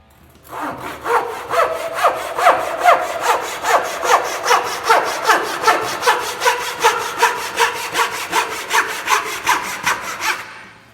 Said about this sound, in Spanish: Y por último voy a utilizar el serrucho de corte fino o de ebanistería.